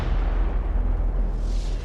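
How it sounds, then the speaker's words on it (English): A deep, continuous explosion rumble with heavy low-end roar, loud and sustained for the full stretch with no break or voices. "And you hear an explosion."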